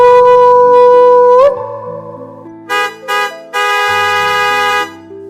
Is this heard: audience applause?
no